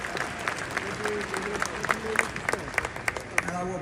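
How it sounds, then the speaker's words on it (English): Scattered audience applause from a crowd, fairly faint and sparse with individual claps standing out, mixed with a murmur of voices and talk over it. "People are clapping though"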